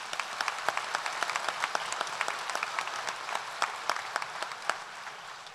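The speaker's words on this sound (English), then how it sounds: "A big round of applause for our new recipients." A graduation ceremony crowd applauds steadily, many hands clapping in a dense, sustained patter with a few sharper claps standing out.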